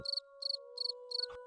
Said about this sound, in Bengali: বাইরে ঝিঝি পোকা ডাকছে